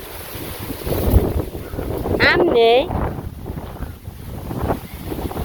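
Strong monsoon-like wind gusts buffet the microphone outdoors in a village, a steady low rumbling roar throughout, with a person briefly speaking in the middle.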